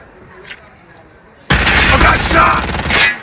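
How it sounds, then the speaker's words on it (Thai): Gunfire erupts in a shooting video game, with quiet near-silence broken by a sudden loud, sustained burst of rapid shots and booms that lasts to the end. "ระยะกลางอย่างนี้ยิงกันไม่โดนสักนัด"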